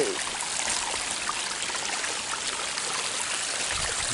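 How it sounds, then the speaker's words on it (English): Water flows in a stream outdoors along a walking path, a steady, moderately soft rushing and trickling wash that continues evenly throughout. "the birds, the water flowing"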